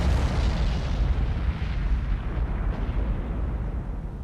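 Rumbling, sustained low explosions from weapons dropped by aircraft in the naval video game Cold Waters, a dense continuous roar of blasts, heavy and close, with no voices.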